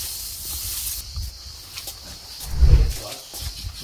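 A house cat hisses in a home being shown during a walkthrough in Muğla, a breathy burst rising near the middle over faint background noise.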